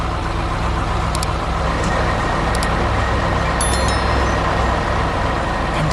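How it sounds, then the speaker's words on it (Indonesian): A cement mixer truck works in a 3D animation, its engine rumbling steadily and loudly. Short high beeps and hisses cut in briefly over the drone. "itu pengaduk semen yang sedang bekerja keras membangun jalan untuk kita semua"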